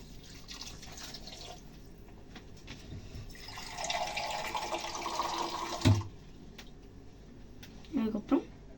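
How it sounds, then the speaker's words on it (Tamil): Water poured from a large glass into a kadai for sambar, a steady splashing pour lasting a couple of seconds, followed by a few small clinks and drips, close by with no talking. "சாம்பாருக்கு வந்து உங்களுக்கு எவ்வளோ தண்ணி வேணுமோ, இந்த பெரிய கிளாஸ் வந்து எடுத்துருக்கேன்"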